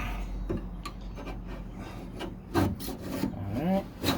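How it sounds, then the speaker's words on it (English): Old material is scraped off the passenger door of a 1969 C3 Corvette during teardown, producing a series of irregular close rubbing and rasping strokes. "Scrape that off nice and good."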